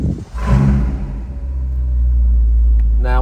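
A 2019 Ferrari Portofino starting up: a brief starter crank, then the engine catches with a loud rumbling surge that settles into a strong, steady idle close by, with a faint rev blip at the end.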